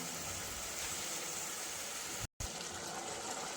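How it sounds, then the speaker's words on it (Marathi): Water is poured into a chicken biryani pot in a steady, even gush that breaks off briefly near the end, then resumes. "तर बघा मी आता टाकले पाणी"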